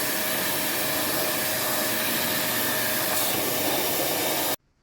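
A spray washer hisses steadily while cleaning the air conditioner condenser panel of an Opel Zafira, a loud unbroken rush close by that stops suddenly at the end.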